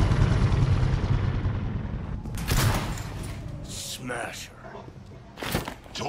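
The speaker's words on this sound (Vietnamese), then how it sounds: "mình lên được máy bay rồi các bạn" Aircraft rumble in the Cyberpunk 2077 video game, a loud steady low drone with bursts of broadband noise like gunfire or rushing air, under occasional game voices.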